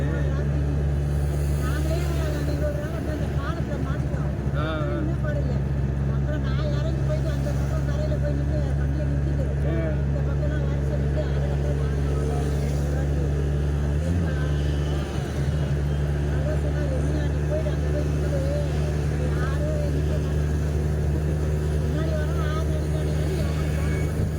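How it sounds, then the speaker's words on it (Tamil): Road traffic on a Chennai street slowed by metro construction, a steady low engine rumble and drone from nearby vehicles heard from inside an auto-rickshaw, with people talking over it. "மெட்ரோ வேலை நடக்கிறதுனால டிராஃபிக் நடக்குது."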